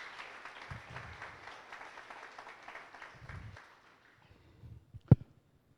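A church congregation claps and cheers for Jesus Christ in a steady wash of applause, with some low bursts of voices mixed in. It fades out after about four seconds, followed by a sharp single knock.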